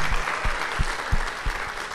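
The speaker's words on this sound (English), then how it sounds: "Let's give her a round of applause." An audience at a raspberry festival junior coronation claps for the festival director, a steady wash of applause with a few sharper close hand claps standing out, fairly quiet and brief.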